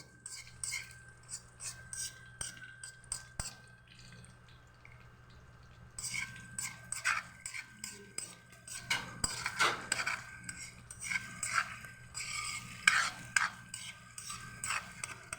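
Egg topping is mixed in a bowl with a utensil, giving quiet then brisker rhythmic clinks and scrapes that grow busier partway through, with a faint steady hum in the background.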